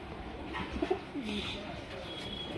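A male Nagina Tamral pigeon coos softly in a few low, rolling notes, faint and close, over a background murmur.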